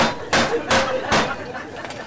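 A knife finely dices food on a chopping board at a cooking demonstration, three sharp, evenly spaced chops followed by lighter taps.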